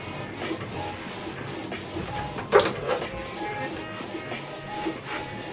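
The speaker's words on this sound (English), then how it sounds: "Right now this is printing the alignment head." A Canon Pixma TR8550 all-in-one printer running its alignment page: a steady mechanical whir of the print head moving back and forth, with a sharper clack near the middle, close and moderately loud.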